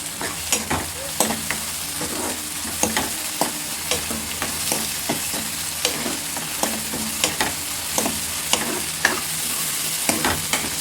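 Curry leaves drop into hot oil for a simple curd pachadi and sizzle steadily, while a spoon stirs and scrapes the pan in repeated close, sharp clicks.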